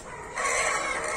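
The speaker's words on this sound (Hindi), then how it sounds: "अभी ये मुर्गा है अपना" A rooster gives a single brief, fairly close cluck that starts abruptly and holds steady for under a second.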